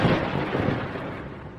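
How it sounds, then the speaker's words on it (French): Thunder from an approaching storm: a loud, deep, sustained rumble that slowly fades over under two seconds, with no voices. "il va y avoir un orage bientôt"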